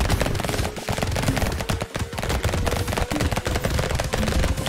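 Dense, nonstop automatic gunfire with overlapping bursts and rapid shots, loud and close throughout, from a chaotic firefight in the video game Brotato.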